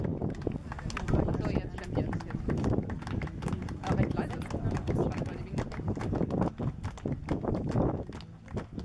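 Horse hooves clip-clop steadily on hard ground at a dressage event in Stelingen, a busy rhythmic patter of footfalls close by with some background noise.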